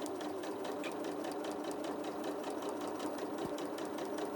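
A sewing machine stitches straight parallel quilting lines through fabric, a fast steady mechanical whir with rapid even needle pulses, running alone at close range.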